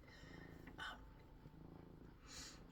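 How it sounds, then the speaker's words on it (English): A cat purrs loudly and steadily up close, a low continuous rumble with soft breathy pulses throughout. "If you can hear that extremely loud purring"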